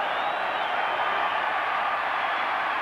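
A stadium crowd at a 1984 Seattle Seahawks versus Los Angeles Raiders football game roars in a loud, sustained wall of cheering that fills the whole stretch without letting up.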